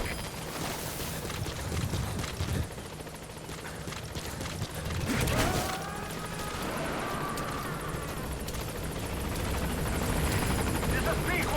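Helicopter in the Metal Gear Solid V: The Phantom Pain video game arriving at a landing zone, a loud continuous rotor thrum with whooshing sweeps, with voices talking over it.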